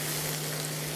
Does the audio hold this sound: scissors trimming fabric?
no